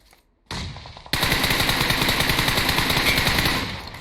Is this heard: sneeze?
no